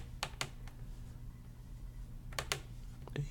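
A computer mouse clicks a few times while working in FL Studio, giving short sharp clicks in two small clusters over a low steady hum, with no talking.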